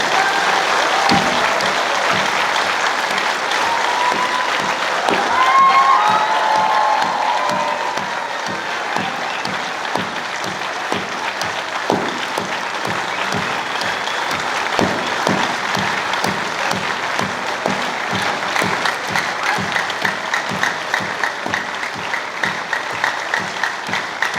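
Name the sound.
audience applauding loudly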